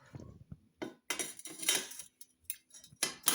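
Several sharp plastic-and-metal clicks as a removable Tefal Ingenio handle snaps onto a pan from a 10-piece Ingenio Emotion cookware set, in irregular close bursts with quiet gaps between.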